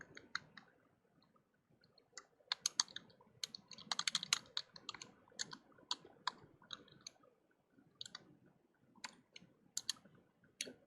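Quiet, close computer keyboard typing comes in uneven bursts of rapid clicky keystrokes with short pauses between flurries.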